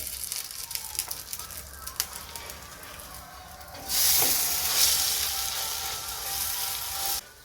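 Katmer pastry frying in a pan, a soft crackle that swells into a loud bright hiss of sizzling oil for a few seconds as it is flipped, then cuts off.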